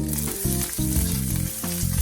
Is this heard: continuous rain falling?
no